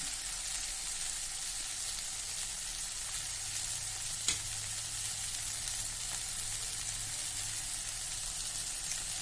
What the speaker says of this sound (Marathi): पाच मिनटं परतूया फक्त